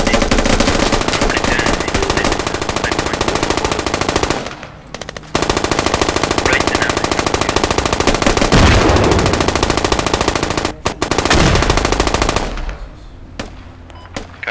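Sustained automatic gunfire in the military shooter game SQUAD, loud rapid bursts nearly throughout with two brief pauses, trailing off near the end.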